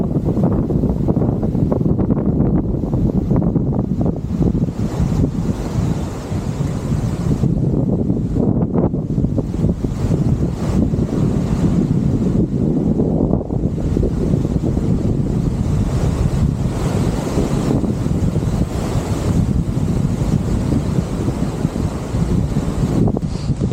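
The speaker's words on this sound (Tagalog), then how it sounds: "Grabe, oh, takas ng hangin." Strong wind on an outdoor staircase at a monument roars and buffets the microphone without letup, a loud, steady rush with no voices.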